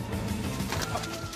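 A homing pigeon coos softly nearby after flying back to its loft, low throaty murmurs blending into a steady background hum.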